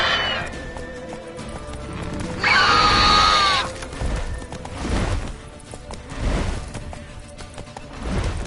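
The horse Roach neighs loudly in The Witcher 3, a sharp whinny over galloping hoofbeats and game action, with thuds and combat noise around it.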